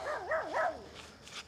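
A dog at a nighttime fishing campsite lets out a short run of wavering, close barks and whines, followed by fainter echoing returns.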